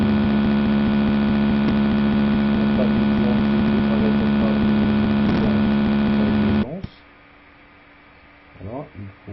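A simulated electric motor runs in Schemaplic 3.0 circuit software, giving a loud, steady electrical hum with strong harmonics that cuts off abruptly near the end, leaving near silence and a few faint soft sounds.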